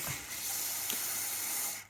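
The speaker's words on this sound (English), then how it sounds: "spray these two bolts with a bit of fluid" Penetrating fluid sprays onto the rear suspension bolts of a 1994 Jaguar XJS V12 during a brake refurb, making one steady close hiss of just under two seconds.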